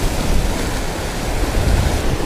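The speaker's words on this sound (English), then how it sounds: "The wind is just kicking right now." Strong wind at a rocky Hawaiian shore, roaring broadband and steady with surf mixed in, buffeting the microphone close up with no voices.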